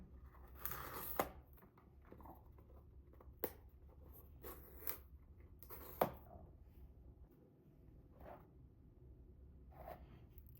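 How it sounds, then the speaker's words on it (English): Cardboard pull tabs being ripped off a Samsung Galaxy S25 Ultra box during unboxing, several short quiet tearing rips spaced apart, close up with no talk. "let's go ahead and rip the tabs off here"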